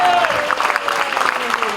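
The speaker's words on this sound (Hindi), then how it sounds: "इन बच्चों के लिए जोरदार तालियां।" Audience applause for children at a cancer awareness charity event, a short burst of dense clapping that stays steady and fairly loud throughout.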